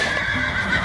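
A horse neighs in the video game Rec Room, a short bright whinny heard up close with faint hoof clip-clop beneath it and no talk.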